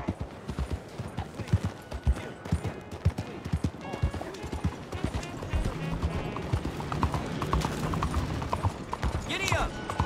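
Horse hooves clip-clopping in Red Dead Redemption 2, a steady run of close, loud hoofbeats with faint mechanical clicks and occasional voices talking over them.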